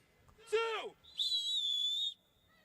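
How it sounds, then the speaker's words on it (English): A whistle blown to start a relay race gives one clear, loud, sustained shrill blast of about a second, after a short voiced sound just before it. "I don't like how he blew the whistle."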